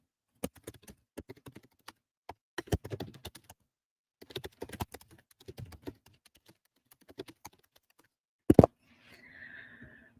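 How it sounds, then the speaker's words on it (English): Clicks from a computer keyboard come in short bursts of quiet, close keystrokes with pauses between them. One louder knock follows, then a faint rustle. "I'm going to finish my sentence I'm typing"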